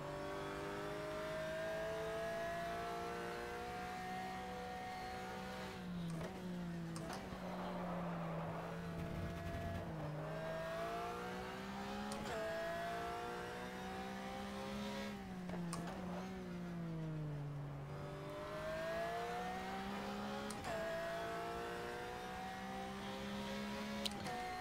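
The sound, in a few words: race car engine revving in video game GTR 2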